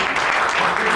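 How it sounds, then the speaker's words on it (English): An audience at a book launch and literary discussion claps for an author's first novel, a dense, continuous one-second burst of applause at fairly close range. "just clap again."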